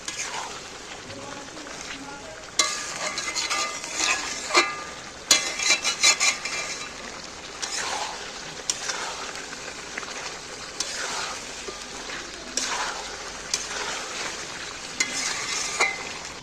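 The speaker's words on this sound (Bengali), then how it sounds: "এইবার ভালো করে নেড়ে নেড়ে একে কষিয়ে নিতে হবে" Fried chicken pieces stirred and turned in a pan, with a steady sizzle of frying under scraping and clinks of a utensil against the metal, close and moderately loud throughout.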